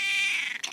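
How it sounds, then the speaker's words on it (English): An old cat gives a single short, strained meow that is close and clear and fades out within a second. "Right there, he opened his mouth while meowing."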